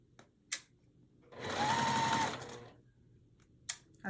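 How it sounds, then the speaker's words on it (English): A sewing machine stitches pinned curved quilt pieces for a Tula Pink butterfly quilt pie block, running in one steady burst of about a second between short clicks, close and clear with no talking. "I'm just gonna sew the same way"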